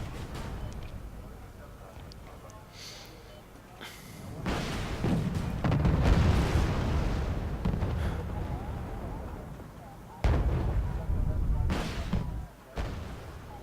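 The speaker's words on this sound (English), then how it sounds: "some harassing artillery fire on the Motorschützen in those buildings" Harassing artillery fire landing on mechanized infantry in buildings in a war strategy video game: deep rumbling booms and sharp blasts swell and recur, loud and dense, with a few sudden onsets.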